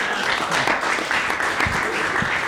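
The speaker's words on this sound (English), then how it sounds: "Again, one more big round of applause for Richard Cheek, please." Steady crowd applause at a lightning talks event, a dense wash of clapping from a large audience, sustained and fairly loud throughout.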